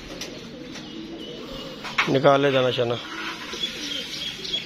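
A pigeon coos quietly near a rooftop coop after most of the flock has flown up, the soft calls joined by a short burst of a person speaking in the middle.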